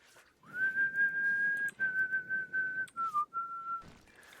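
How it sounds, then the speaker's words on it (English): A person whistles a sustained melody over faint game music while playing RimWorld, the tones held steadily and broken into a few phrases with brief pauses, close and clear. "I was gonna whistle along, but the song changed."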